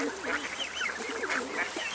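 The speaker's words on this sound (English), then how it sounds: "Oh, here comes the geese" A flock of geese approaches at a feeding spot in a marsh at Sechelt, British Columbia, sending up a dense, overlapping chorus of honks and calls. The birds are fairly close and loud, and the calling is continuous for the whole stretch.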